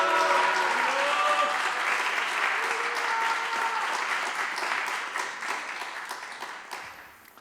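A church congregation at a Friday worship gathering in Busan applauds to welcome a guest speaker: loud, dense clapping with a crowd murmur that holds steady, then gradually thins and fades out.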